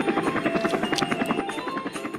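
Helicopter flying overhead in a toy train animation, its rotor chopping in a fast, even, close beat over a low engine whine, with no talk.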